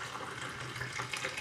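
Homemade lovage seasoning, a thin liquid, is poured into jars with a soft, continuous trickling and splashing, fairly quiet and close.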